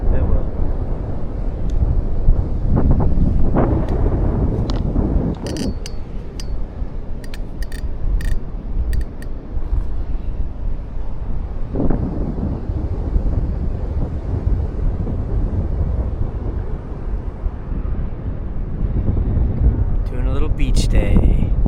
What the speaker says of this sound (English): A little windy, but super nice.